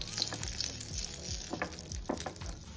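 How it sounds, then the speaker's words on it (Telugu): Cashews fry in a spoonful of ghee, a close crackling sizzle with soft stirring scrapes and small pops throughout, no talking. "ఇవి లైట్ బ్రౌన్ కలర్ వచ్చేదాకా వేయించుకోవాలి"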